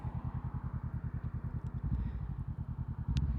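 A 500cc motorcycle fitted with an aftermarket exhaust pipe idles with an even, rapid low thumping pulse, close and moderately loud with no talking.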